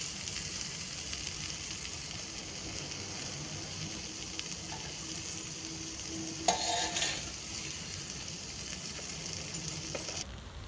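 Onions and tomatoes fry in a pan for a village-style fresh turmeric sabzi with a soft, steady sizzle. A faint spoon stir and a brief clink come near the middle.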